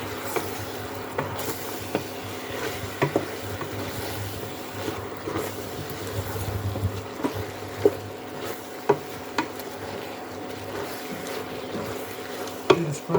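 Onion, ginger and garlic fry in a pan for Polynesian island cooking, a steady sizzling hiss punctuated by occasional clinks and scrapes of stirring.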